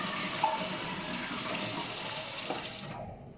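Water runs steadily from a kitchen tap for about three seconds while fellah köfte is being made, a close, continuous hiss that cuts off abruptly at the end.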